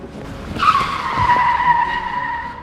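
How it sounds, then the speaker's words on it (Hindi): Tires screech as a car is driven hard during a chase, one loud drawn-out squeal rising in and then sliding down, with engine rumble beneath and no speech. "गाड़ी भगा, पकड़ इनको, बच के नहीं जाना चाहिए।"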